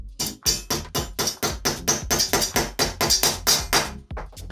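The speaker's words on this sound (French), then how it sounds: "on récupère la cheville, on la met dans le trou, on se remet bien droit, le marteau" A hammer tapping a plastic wall plug into a hole drilled in a concrete slab: about fourteen sharp, evenly spaced knocks, loud and close, ringing briefly after each strike, with no talking.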